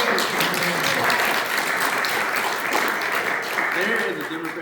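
A large crowd applauds loudly and steadily, a dense wash of clapping that fades slightly near the end.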